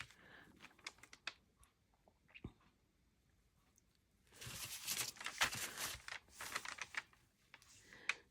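Purple-cabbage-dyed paper is torn by hand in one drawn-out rip of rough crackling bursts, close and fairly loud, after a stretch of faint handling and small taps.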